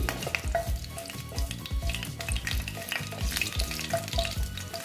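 Garam masala fries in a generous amount of oil for an Afghani chicken dish, giving a dense, continuous sizzle with busy crackling and stirring texture, close and fairly quiet, with no talk.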